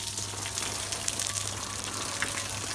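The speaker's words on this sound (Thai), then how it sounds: "ต้องรดน้ำให้ชุ่มเลยนะครับ" Water is poured and splashed over a red brick wall to soak it before plastering, giving a steady close gushing and trickling wash that runs without a break.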